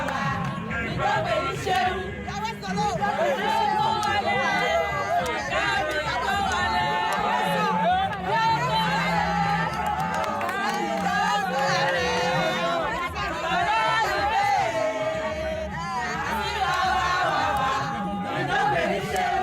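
Crowd of market women celebrating at a festival in Bopa, loud continuous singing, chanting and cheering voices with whoops, sustained throughout.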